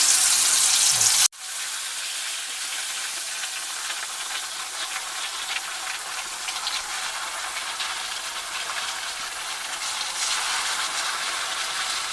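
Malinjeen eel fish fries in hot coconut oil in a pan, starting with a sudden loud burst and then settling into a steady, dense sizzle and hiss close to the microphone.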